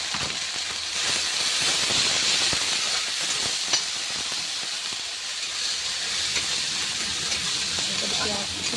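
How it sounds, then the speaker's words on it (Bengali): Chopped onions fry in a pan with ginger-garlic paste for an eggplant curry, producing a loud, steady sizzling hiss that runs unbroken throughout. "পেঁয়াজ কুচি নেবো, পেঁয়াজটা একটু ভেজে নেবো।"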